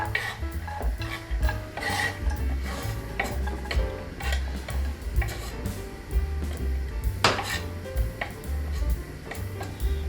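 Carrots frying in a pan for a gluten-free lasagne, with continuous scraping and stirring against the pan and some soft sizzle underneath, plus a low rumbling hum.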